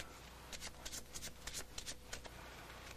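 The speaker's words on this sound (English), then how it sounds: "I'm going to shuffle the cards." A pack of playing cards is shuffled during a street magic trick, several rapid crisp riffles and snaps close by, continuing steadily without any voices.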